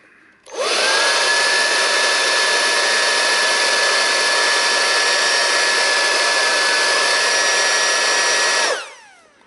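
A Dnipro-M DVB-200 cordless leaf blower on its first speed setting, without its nozzle tube, spins up and runs as a loud, steady, close whine with a constant tone for about eight seconds, then winds down.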